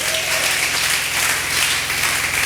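Congregation applauding steadily at a Congolese church service, a dense, continuous patter of many hands with no pauses, fairly loud and even throughout.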